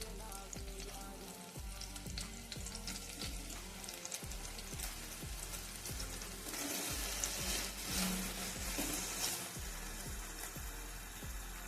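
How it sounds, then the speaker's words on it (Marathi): Paneer shallow frying in a pan gives a steady crackling sizzle that runs throughout without pause. Repeated low thumps and clatter, likely from pieces being turned, sit under the sizzle, and no one speaks. "पनीरला शॅलो फ्राय करूया."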